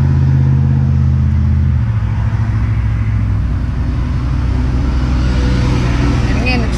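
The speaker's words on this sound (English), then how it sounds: "the traffic is behind me" Steady road traffic rumbles continuously behind a talking person at a roadside, with a low vehicle drone and a passing car swelling toward the end.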